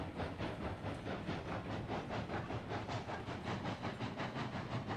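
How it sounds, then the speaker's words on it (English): A locomotive runs steadily while pulling a string of train cars, giving a loud, continuous rumble with regular rhythmic pulses and hiss throughout, close by with no voices. "I was worried I was pulling the other locomotive with us"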